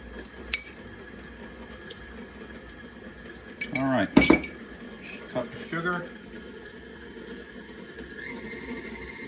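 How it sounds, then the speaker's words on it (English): Butter and sugar being creamed in a bowl for chocolate chip cookies, with a scraping, clattering burst of utensil against bowl in the middle and a few lighter clinks around it, close and fairly loud, with a voice briefly present. "this is creaming your butter and your sugars"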